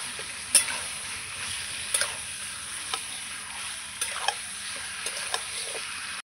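Chicken being stirred and fried with onions, with a quiet continuous sizzle and occasional spoon scrapes and taps on the pan, close up and alone.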